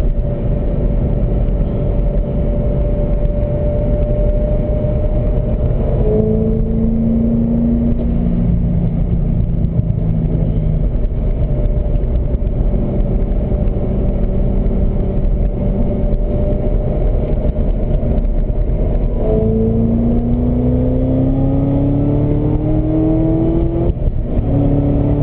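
A 2011 Chevrolet Corvette ZR1 V8 races around a track, its loud engine note holding steady, then dipping and climbing through repeated rising revs as it brakes and accelerates out of corners, constant and close throughout.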